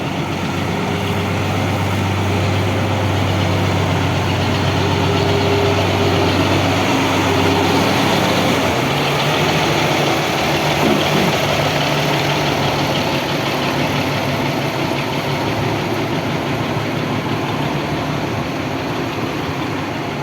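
A Kirovets tractor's heavy engine idles steadily for a long stretch, a low, droning rumble with a slight shift in pitch partway through, no voices.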